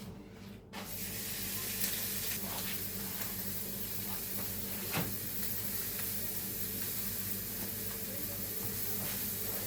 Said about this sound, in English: I'm going to fry it with the bacon